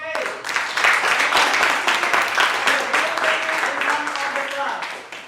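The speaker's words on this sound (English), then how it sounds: "Okay, class, please give applause to Chloe." A classroom group applauds a student's English role play with sustained clapping from many hands, loud and dense for several seconds, with some voices mixed in.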